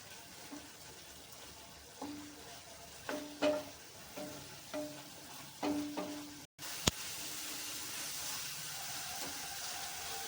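Masala spice paste frying in oil for a cabbage kofta curry, a faint steady sizzle with soft intermittent stirring scrapes and one sharp knock near the end.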